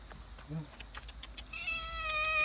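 A brief, faint meow from a cat rises out of quiet outdoor background, followed by a steady high electronic whine.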